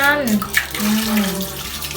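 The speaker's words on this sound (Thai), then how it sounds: "เปิดน้ำล้างเลยครับ อ่ะ เปิดน้ำล้างมัน" Tap water runs steadily while a toy dinosaur is rinsed clean of soap, a close continuous splash and gush with a voice chattering over it.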